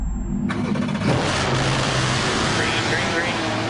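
Porsche race car engines fire up together on the starting grid at the 24 Hours of Le Mans, a sudden loud burst of roaring, rumbling engine noise that stays dense and sustained after the start.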